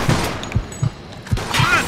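Shotgun fire in the Mafia II video game, a rapid string of punchy blasts about a quarter second apart, loud and close, with no talking over them.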